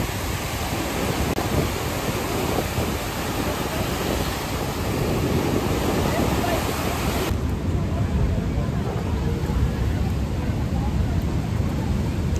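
Strong sea waves at Ganapatipule beach produce a continuous broadband roar of surf, mixed with wind rumble, loud and close throughout.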